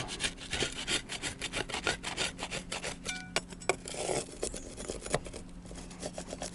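Old silicone sealant being scraped off the roof edges of a budget overland camper, a steady run of rough, rasping strokes close by with no talking.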